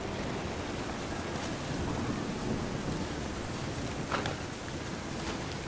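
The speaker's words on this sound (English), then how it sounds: "The thunder sounded much too close and full of angry power." Stormy weather in the video game What Remains of Edith Finch: a continuous low rumble of thunder over steady rain and wind noise, fairly faint and unbroken, with no voices.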